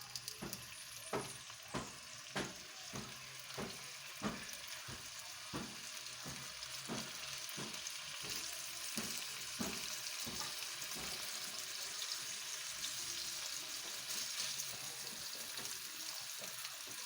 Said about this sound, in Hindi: तवे पे अब हम बना रहे हैं शाशलिक स्टिक।